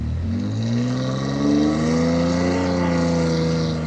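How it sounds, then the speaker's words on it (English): A car engine revving hard and steady while the car is stuck in beach sand, the pitch climbing as the throttle is held, loud and close with no talking. "Give it gas. Come on, give it gas."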